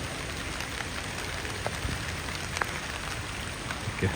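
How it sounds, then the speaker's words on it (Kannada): Steady rain falls near a bridge at Hebri in a constant hiss of close patter, with a few louder drops standing out. "ಹನಿಗಳು ಹಾಗೆ ಬೀಳ್ತಿದೆ"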